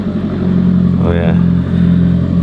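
Alfa Romeo 4C being driven into a workshop at 7 a.m., its engine a steady mid-pitched drone throughout with a brief rising rev near the middle, heard up close while a person speaks over it.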